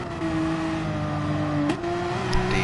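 A Porsche race car engine drones steadily in a sim racing game, holding a sustained tone with a brief shift as it changes pitch, the car running in the slipstream of another Porsche.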